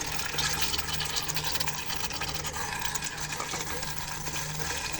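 Baila fish go into a pan of cooked spice masala, giving a steady, close sizzling hiss that continues evenly throughout.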